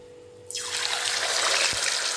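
Marinated chicken drops into hot oil in a pan on high flame, setting off a sudden, steady, close sizzling hiss that continues without speech.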